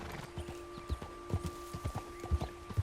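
Horse hooves clip-clop at a steady walking pace in a video game, with regular close thuds over a constant tonal hum and no talking.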